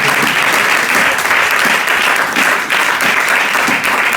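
A church congregation applauding during a Sunday service, loud continuous clapping from a large crowd that fills the space without pause.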